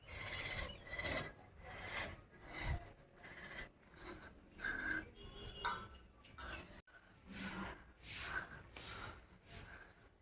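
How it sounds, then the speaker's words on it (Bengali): A broom scrubs a wet surface as water is sluiced over it, giving repeated rasping strokes in a steady back-and-forth rhythm, fairly faint and close. "বাবা উপরে জল তুলে ঝাঁটা দিয়ে ঘষে ঘষে ধুচ্ছে"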